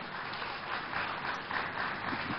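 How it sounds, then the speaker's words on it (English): An audience at an architects' induction ceremony welcomes a speaker with steady, even applause that holds at a moderate, somewhat distant level throughout, with no voices over it. "Can we welcome him with a round of applause"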